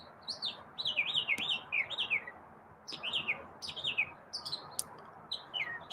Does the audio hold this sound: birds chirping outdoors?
yes